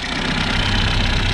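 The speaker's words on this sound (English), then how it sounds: "Got it idling good." An Opel GT engine with a Weber 32/36 carburetor and ported head idles steadily up close, a constant low rumble with a faint rhythmic knock and no voices.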